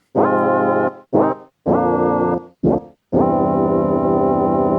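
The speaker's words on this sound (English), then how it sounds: "but also some of the other tones like a wow voice." A Casio VA-10 electronic keyboard plays its bright, buzzy synthetic wow voice tone in five notes, some short and clipped, the last one held long, loud and close.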